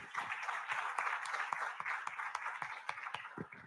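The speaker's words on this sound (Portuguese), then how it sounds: "Aplaudamos aí, aplaudamos." A church congregation applauds during a Sunday worship service, steady rapid clapping from many hands, fairly soft and distant, sustained throughout without talk.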